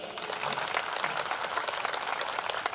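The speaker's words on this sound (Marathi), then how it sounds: "अजून एकदा जोरात टाळ्या वाजवा रे" An audience claps steadily at a Jai Bhim festival folk ballad performance in Beed, a dense, continuous wash of many hands at an even level with no voices over it.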